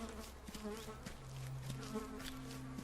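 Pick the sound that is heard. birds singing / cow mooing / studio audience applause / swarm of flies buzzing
swarm of flies buzzing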